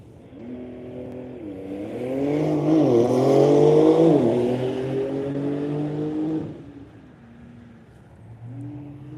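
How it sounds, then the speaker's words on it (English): A Goodyear-sponsored Porsche race car launches hard at a drag event at NCM, its engine note climbing loudly through a rising, revving pull before cutting off and dropping back to a lower hum. "And the Goodyear Porsche is away."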